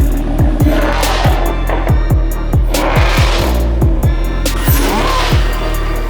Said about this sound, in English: You want to give it a couple revs?